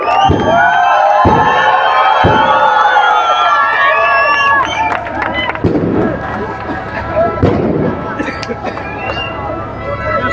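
Loud crowd cheering and clapping at an AIMIM election rally, dense roaring noise with shouting voices and babble that holds strong throughout, easing only slightly in the second half.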